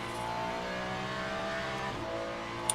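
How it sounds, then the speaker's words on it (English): A Ferrari race car engine in the Le Mans Ultimate racing game holds a steady high-pitched wail with a rich harmonic drone, shifting pitch briefly near the end, loud and continuous with no talk. "the Ferrari on LMU sounds like a completely different car to ACC"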